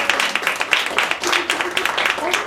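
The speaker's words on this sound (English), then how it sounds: "Give them all a round of applause." A talent-show audience gives a steady round of applause, many hands clapping in a dense, continuous patter at moderate loudness with no talk over it.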